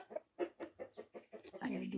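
Chickens kept in an enclosed pen on a rural smallholding, clucking in a quick series of short, close calls, with a busier burst of fowl sounds toward the end.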